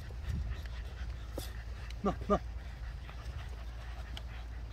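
Terrier dogs ratting: a couple of short, high whimpers from a dog rise briefly over outdoor background noise, while someone speaks a few words nearby.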